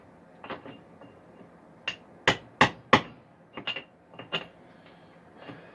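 Hammer swings knocking loose material, a series of sharp metallic strikes, several single blows then a quick triple burst of loud hits, close by with no talk.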